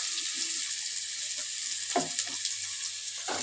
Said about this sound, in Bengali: চিচিঙ্গা দিয়ে পেঁয়াজ দিয়ে একসঙ্গে ভাজবো